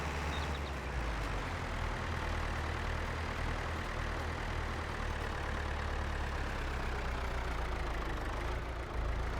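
A tractor engine in Farming Simulator 22 strains steadily while pulling a seed drill on a farm field, producing a continuous loud low rumble that holds constant throughout with no voices.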